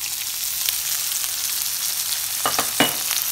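About eight freshly chopped garlic cloves fry in hot oil, a steady close sizzle with a couple of brief stirring scrapes near the end, with no voices.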